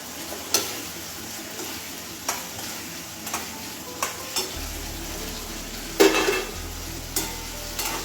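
Leftover roti bites frying in a pan with a steady sizzle, stirred with a utensil that scrapes and knocks against the pan in a handful of separate, close strokes.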